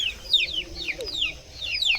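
Chickens in a village yard in the Sundarbans cluck and chirp briefly as they are herded into their coop, short repeated calls close by with a faint voice underneath.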